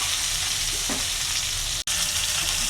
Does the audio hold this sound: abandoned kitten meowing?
no